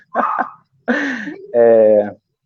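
A dog gives three loud, close barks in a quick uneven sequence, the last drawn out into a tonal, whining howl.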